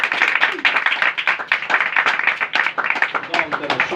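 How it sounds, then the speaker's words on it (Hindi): An audience claps and applauds loudly in a dense, steady patter of many hands at a church gathering, close and continuous throughout. "एक बार अपने लिए ही जोरदार तालियां बजा दीजिए"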